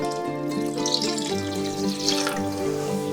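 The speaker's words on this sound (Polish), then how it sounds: "Albo jeszcze dodamy 1 litr wody" Water runs steadily from a tap for a few seconds into a pot, a continuous splashing flow with a rising tone as the pot fills.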